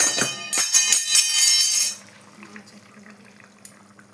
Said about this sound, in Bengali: মাছগুলো আমি ঝোলে দিয়ে দিচ্ছি এই জলটুকু আমি দিয়ে দিচ্ছি